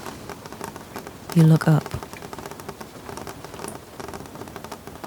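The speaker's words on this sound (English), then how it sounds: "Rain continues against the window." Rain patters steadily against a window glass, a soft continuous crackle of drops, while a voice speaks briefly over it.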